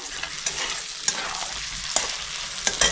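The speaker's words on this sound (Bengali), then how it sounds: "আদা কুচি দিয়েও আমি একটু মিক্স করে নিলাম।" Chopped ginger stirred in a hot frying pan for chicken soup, a steady bright sizzle broken by a few sharp scraping strokes of the spatula, close and fairly loud, no voices.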